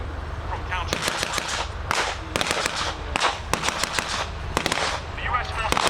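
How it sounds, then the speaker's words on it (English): Rapid bursts of .50 caliber machine gun fire crack out at a WWII re-enactment battle at the Welland Steam Rally, with dense, loud overlapping shots coming in irregular volleys throughout. "The US forces are making good use of their 50 caliber machine guns"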